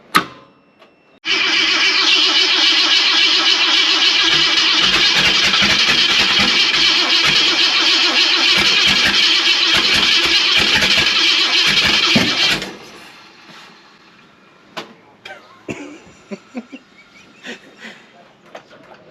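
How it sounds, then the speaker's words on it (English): Car engine cranks over on the starter, a loud and steady whirring drone lasting about eleven seconds close by. It then cuts off, and quieter clanks and shuffling follow. "Motor just cranked over."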